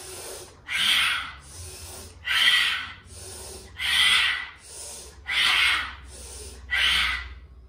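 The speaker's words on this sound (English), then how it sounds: "inhale, lift, exhale through the mouth" Five forceful exhalations through the mouth come in a steady rhythm during a yoga breathing exercise, each a loud, breathy whoosh with quieter inhales between them, close to the listener.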